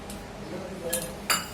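Spoon clinking against a bowl while stirring cardamom powder and sugar into thick homemade mango pulp (aamras), with two brief near metallic clinks over soft background noise.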